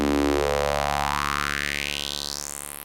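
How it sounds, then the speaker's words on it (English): A Joranalogue Filter 8 Eurorack synth module runs a buzzy, harmonically rich tone through its 6 dB per octave high pass filter. The tone sweeps steadily upward and thins out over a few seconds, playing alone and close with a steady pulsing texture. "So this is a 6 dB per octave high pass filter."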